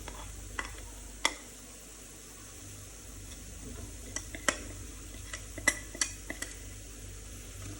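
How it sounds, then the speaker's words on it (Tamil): Onions with masala sauté in a pan while making chicken fry, heard as a faint sizzle under scattered sharp clinks and scrapes of a spoon against metal, spaced irregularly and close by. "இப்போ வெங்காயம் வதங்கிடுச்சு. அதுக்கான தேவையான மசாலாலாம் போட்டுக்கலாம்."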